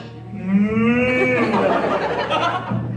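A person imitates a cow, giving one long, drawn-out moo that wavers in pitch, loud and close.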